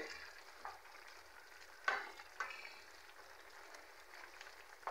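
Meat simmers slowly in a pan over a low flame, giving a faint, steady sizzle broken by a few soft pops and clicks, with no one talking.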